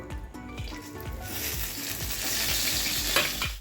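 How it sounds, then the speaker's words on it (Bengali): Whole cumin, cardamom, cinnamon and cloves dropped into hot oil left from frying pointed gourd, a loud, close, steady sizzle that swells and stays dense, with a few light pan knocks under it. "তো সেই তেলটার মধ্যেই এখন আমি দিয়ে দিচ্ছি একটু গোটা জিরে আর এলাচ, দারচিনি আর লবঙ্গ।"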